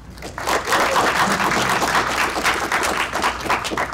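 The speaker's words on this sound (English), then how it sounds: "So give yourselves a big round of applause for that." A crowd claps together in a dense, sustained burst of applause that swells quickly and keeps going steadily.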